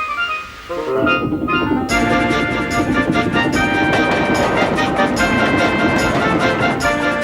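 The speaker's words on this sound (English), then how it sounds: "Gordon's train rocketed past and was gone." A loud, dense rush of rail noise from a steam train with clattering and harsh tonal squeals, sustained throughout as it speeds close by.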